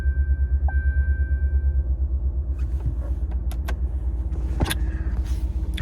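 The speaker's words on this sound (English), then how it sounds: "Gotta turn on my car." A car engine cranking and settling into a low, steady idle rumble up close, with a few clicks and creaks inside the cabin and no talking.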